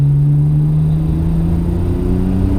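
Nissan Skyline GT-R 4-door engine held at full throttle, a loud steady low drone with strong harmonic hum heard from inside the car, no talk, before the turbo comes in.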